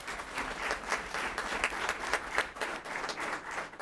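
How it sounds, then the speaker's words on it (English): An audience at a city council meeting applauds steadily, a moderately faint patter of many hands clapping without letup from start to finish. "Please give them a round of applause."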